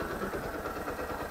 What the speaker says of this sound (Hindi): इसकी आइडलिंग के साउंड भी आप सुन सकते हैं काफ़ी अच्छी लग रही है